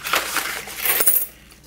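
Loose coins clatter and jingle as they are dropped and shuffled together, a brief bright metallic rattle that swells, peaks, then settles into quiet.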